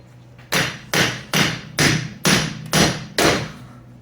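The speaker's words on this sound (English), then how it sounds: "Get under here so I can get a good swing on the hammer." Seven heavy metallic hammer blows strike a stubborn wheel bearing in a steady rhythm about half a second apart, each sharp and close, with brief ringing after every strike.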